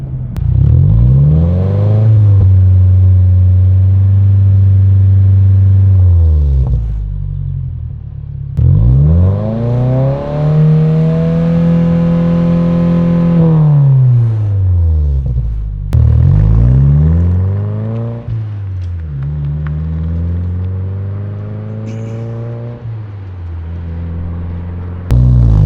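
A 2022+ Subaru WRX engine revs up repeatedly through a cat-back exhaust, each rise to a deep growl then settling to idle, loud and close with no talking.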